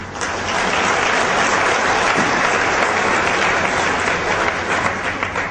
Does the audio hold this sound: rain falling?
no